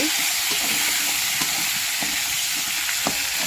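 Shing fish stirred in a hot karai gives a loud, continuous sizzle and hiss, with occasional scraping knocks from the stirring utensil and no voices.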